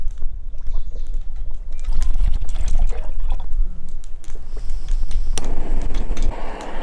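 Water poured into a pot for making coffee at a backcountry campsite, a loud close gurgling splash with some clattering, with a brighter rush of flow near the end.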